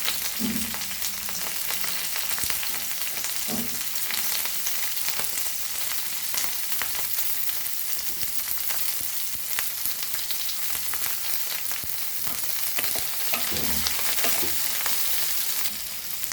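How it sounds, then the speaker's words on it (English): Curry leaves frying in hot oil for Goan spring onion bhaji give a dense, continuous hiss and crackle that stays loud throughout, with a few low knocks from the pan. "Now we will add our curry leaves"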